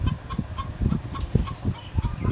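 Chickens in a poultry shed cluck in quick, close, fairly loud bursts, several birds calling over one another with no talk.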